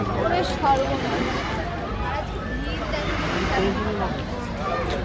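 Dense crowd hubbub from a large crowd waiting in a long queue, a steady wash of overlapping voices and chatter surrounding the listener throughout.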